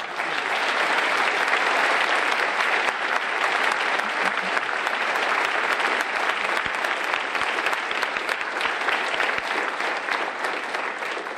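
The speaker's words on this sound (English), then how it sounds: "Let us give them a round of applause." Sustained crowd applause at a desegregation anniversary ceremony at Central High, a broad, even roar of many hands clapping for about eleven seconds, moderately loud and without speech.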